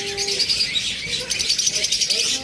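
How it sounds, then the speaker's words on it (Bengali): Caged pet birds at a bird farm, including clear-head opaline birds, twittering in rapid repeated chirps over a bed of background noise, fairly close and continuous. "দেখুন এখানে রয়েছে আরও একটা চমৎকার টপ কোয়ালিটির পাখি,"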